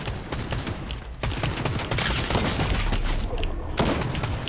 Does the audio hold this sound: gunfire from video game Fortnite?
yes